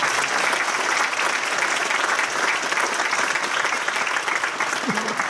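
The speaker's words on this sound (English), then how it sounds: "Give them a round of applause." An audience at a flute band's 50th anniversary concert gives the drummers a round of applause: dense, even crowd clapping that holds at full strength throughout, with a brief voice near the end.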